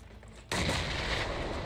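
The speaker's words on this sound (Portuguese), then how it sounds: "Outra granada aqui fora." A grenade blast in PUBG at Pochinki bursts in abruptly after a quiet moment, then a loud, sustained broadband roar with crackling debris fills the rest, with no talking.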